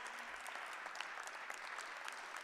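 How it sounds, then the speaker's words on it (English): An audience claps steadily for the panelists at the close of a panel discussion, with a dense, even patter of many hands sustained throughout, moderately distant and without talk over it. "Let's give our panelists a round of applause"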